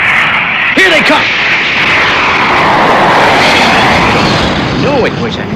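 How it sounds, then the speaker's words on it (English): Thunderbirds aircraft sweeping past over the desert, a loud sustained jet roar that swells and holds across the whole pass, with a few short voice-like calls rising over it. "What a plane!"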